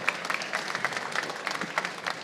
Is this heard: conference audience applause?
yes